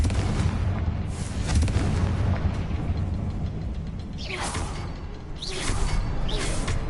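A Confringo blasting spell going off in a video game: deep, roaring explosive rumble with whooshing bursts, the sharpest blasts landing toward the end over continuous heavy low-end noise, no talk.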